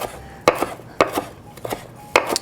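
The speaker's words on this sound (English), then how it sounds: "Give this a good chop, because you don't want any of the stems getting caught in your teeth there." A knife chops herbs on a cutting board, its blade striking in four sharp, separate knocks with short pauses between them, close and alone with no talking.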